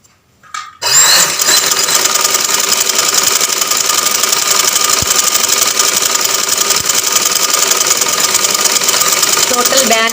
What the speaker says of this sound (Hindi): आपने इस पर किनारी की सिलाई बनानी है ऐसे। ये देखें, ये किनारी की साथ साथ सिलाई बिल्कुल ऐसे